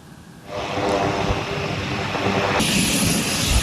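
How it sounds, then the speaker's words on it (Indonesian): A USAF C-130 Hercules military transport aircraft, its engine roar swelling quickly to a loud, steady, broad drone that grows harsher and brighter near the end. "Pesawat USAF C-130 Hercules milik militer Angkatan Udara Amerika Serikat sedang menurunkan bom JDAM."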